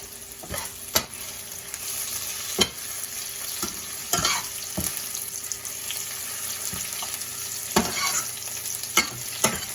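Garlic frying in a pan, cooked for spaghetti with cherry tomatoes and shishito peppers, gives a steady close sizzle broken by sharp scraping clacks as the pan is tossed and stirred.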